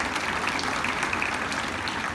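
Loud, steady applause from a school audience of students, a continuous crowd clapping throughout with no pauses.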